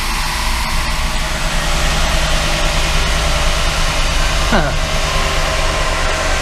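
Car engine running hard on a dyno rolling road during a power run up to about 40 mph, a loud steady roar filling the whole clip with a brief rising whine near the end.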